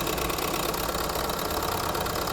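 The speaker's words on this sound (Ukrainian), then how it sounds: "Двигун працює добре, посторонніх звуків ніяких немає." A Renault Megane 4 engine idles in a steady, even drone with a low mechanical hum and faint rhythmic knocking, heard up close and alone.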